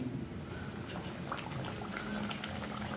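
Puri frying in hot oil while it puffs up, a steady bubbling sizzle with a continuous boiling hiss and faint crackles throughout, close and even with no talking.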